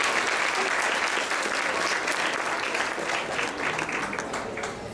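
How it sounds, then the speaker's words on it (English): Audience at an elementary school student award ceremony applauds steadily, a dense sustained clapping that gradually tapers off, with no talk over it. "Big round of applause."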